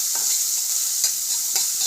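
Onion, ginger, garlic and chili stir-fry lightly in a pan for spicy ramen noodles. A steady close sizzle runs throughout, broken by a few brief scraping stirs.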